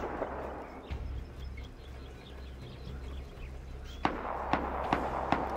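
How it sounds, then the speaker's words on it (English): Distant gunfire from bases in the survival game Rust crackles in scattered bursts, with several sharper, louder cracks near the end over a low rumbling background. No one speaks. "And it's shooting all the time."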